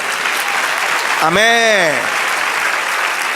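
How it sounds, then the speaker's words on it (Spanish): A church congregation claps for the Lord during a Spanish-language service, a steady wash of hands under a single voice calling out briefly in the middle. "Denle un aplauso al Señor."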